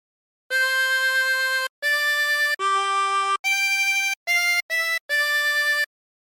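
Harmonica plays a phrase of a song as seven clean, sustained blown and drawn notes with short gaps, steady and fairly loud, with no talking.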